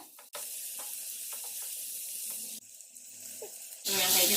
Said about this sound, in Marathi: थोड तेल घेतलंय आता याच्यामध्ये कढई मध्ये आता पहिला कांदा घालायचा